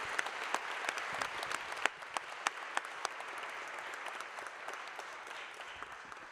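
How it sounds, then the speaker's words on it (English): Audience at a health summit applauds continuously, a broad wash of clapping with a few sharp individual claps standing out, fading slightly toward the end. "again a big round of applause"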